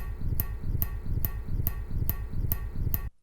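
A hand strikes an odd metal object at a rest stop, giving eight evenly spaced sharp metallic hits over a steady low rumble, ending abruptly.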